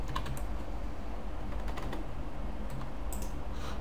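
Typing on a computer keyboard while working in QGIS software, with a steady run of fast key clicks, close and clear, and no voices.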